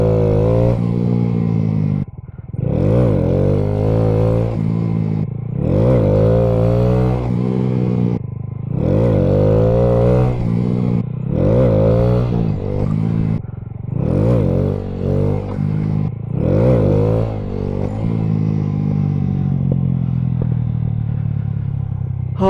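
Motorcycle repeatedly revving for wheelies with the clutch popped and brakes applied, loud engine bursts rising and falling in about seven cycles, with a longer fading note at the end.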